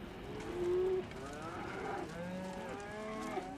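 Cattle on a ranch moo repeatedly, several drawn-out calls from more than one animal following each other, moderately close over a quiet outdoor background, with no talking.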